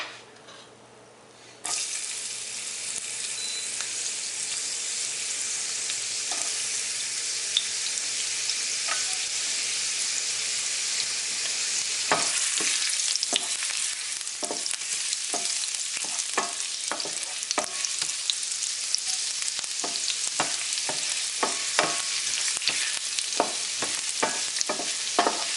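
Ginger hits hot oil in a pan with a sudden loud sizzle that holds steady, then a spatula scrapes and stirs in quick repeated strokes through the continuous frying hiss; no one talks.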